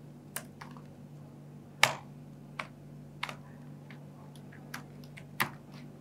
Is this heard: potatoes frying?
no